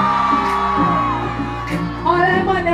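Women in a crowd at a Jamaican birthday party mas camp scream and whoop together, loud and sustained, with shrill rising yells near the end over a constant din.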